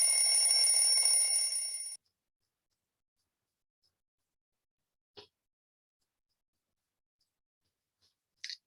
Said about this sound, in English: I must have a reliable alarm.